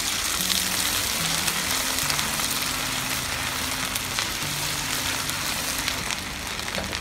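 Onions frying in oil as garlic ginger paste goes in, a steady close sizzle with bubbling crackle and faint stirring, no talking.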